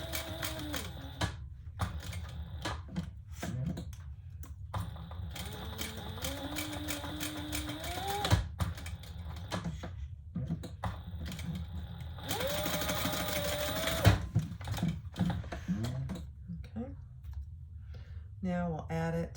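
A sewing machine stitches all four sides of leather pieces for a retro-style sling bag, its motor running in repeated bursts with pauses between them while a person talks over the stitching.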